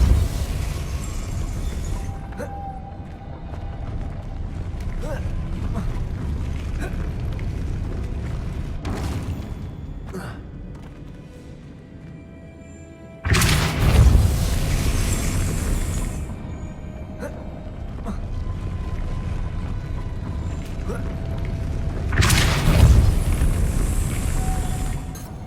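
A Depulso spell is cast in the video game Hogwarts Legacy, bursting as a loud whooshing blast over ambient game sound, with a second similar burst several seconds later.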